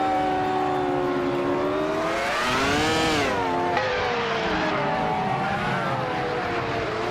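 F1 race cars, including a 1998 Williams FW20, roaring off the start line together in a racing video game. Engines scream loudly and their pitch climbs, then drops sharply as the cars change gear, with a constant dense roar underneath.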